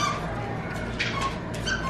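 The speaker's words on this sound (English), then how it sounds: "Angry dog." Dog grumbling with thin whimpering yips over a low, continuous growly rumble, close and fairly loud for a couple of seconds.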